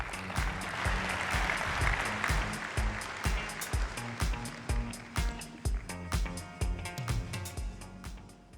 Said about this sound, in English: Please give Andrew a very warm round of applause.